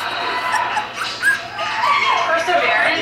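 Puppies whimper, yip and bark in high, thin bursts close by, while a person talks over them throughout.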